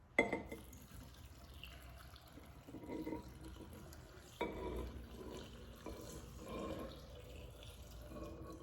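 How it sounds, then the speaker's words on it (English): Filtered water is poured into a jar of salty brine for preserving cherry tomatoes, a faint trickling and splashing with a few soft clinks and bumps in a quiet kitchen. "So I'm gonna add some filtered water."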